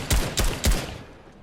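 Three quick, loud gunshots from Fortnite, evenly spaced in a short burst, close and punchy, then fading to quiet.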